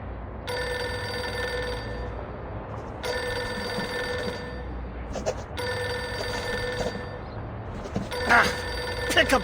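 Insistent telephone bell from the video game Reverse: 1999, ringing in three long bursts separated by short pauses, loud and close, with faint speech near the end.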